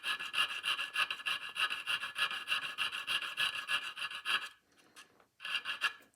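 A jeweler's file rasping on metal, working a part of a Victor phonograph speed control, quick regular back-and-forth strokes close up and fairly loud, stopping for about a second near the end before a final stroke; no talk.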